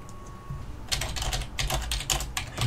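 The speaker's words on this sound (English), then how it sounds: "he's typing some stuff." Someone types on a computer keyboard in a fast, uneven run of clicking keystrokes. The taps sit close and fairly clear over a quiet room hum.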